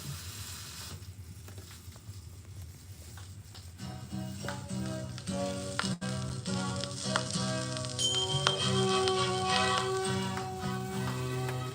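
Steady crackle and hiss from a dirty record on a Crown turntable sit under the music, with surface noise popping throughout at a moderate level.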